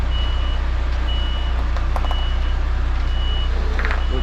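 A truck reversing in a tight street in Southport sounds a steady run of evenly spaced, high reversing beeps over a loud, constant engine drone.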